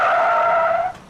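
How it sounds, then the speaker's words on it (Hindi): A car skids to a stop with a loud, sustained tyre screech lasting about a second, then cuts off abruptly. "बस बस बेटा, गाड़ी यहीं रोक दो।"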